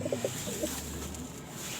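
Pigeons cooing softly in a short burst near the start, a few low rounded coos fading into a steady background hum.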